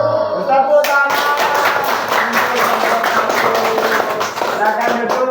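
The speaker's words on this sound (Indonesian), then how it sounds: "Tepuk tangan." A classroom of students claps together for a group in a lesson, brisk, loud and close, sustained hand clapping with a brief voice at the start.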